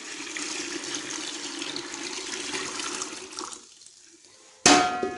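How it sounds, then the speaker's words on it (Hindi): Water pours steadily into a bucket of semolina for halwa, a continuous splashing rush that stops abruptly, followed by a short, sharp clatter. "पानी डालेंगे अंदर इसके।"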